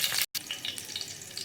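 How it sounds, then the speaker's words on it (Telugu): Green chillies fry in hot oil, a close, bright sizzle with light stirring, briefly broken by a short gap, then crackling on alone. "పచ్చిమిరపకాయలు కూడా ఫ్రై అయ్యాయి,"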